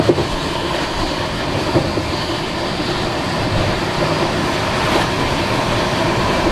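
A 12245 Duronto Express train runs steadily from Howrah toward Bangalore, its carriages giving a continuous rumbling roll with faint rhythmic wheel clatter and a brief swell near the end, heard from inside the coach with no voices.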